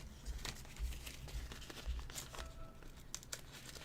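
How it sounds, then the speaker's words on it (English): Loose paper is pulled from between the layers of a tattoo stencil, giving quiet, intermittent crinkling and tearing rustles close by, with no talk. "you just take this paper out of the middle"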